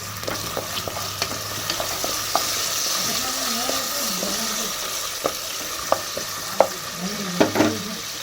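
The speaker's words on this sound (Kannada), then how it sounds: "ಸ್ವಲ್ಪ ಎಣ್ಣೆ ಒಳಗೆ ಚೋಳಿಕಾಯಿ ಹಾಕಿ ನಾನು ಸೇರಿಸ್ತೀನಿ" Green chickpeas (choleykai) fry in a pan of oil with a steady sizzle, punctuated by irregular scrapes and stirring knocks of a spatula, close by, no talking.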